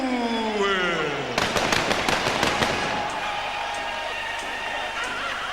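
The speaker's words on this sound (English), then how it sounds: "Fireworks to celebrate." Celebration fireworks at a heavyweight boxing match, a whistling rise followed by a rapid burst of crackling bangs over a crowd roar, with a commentator's voice over the din.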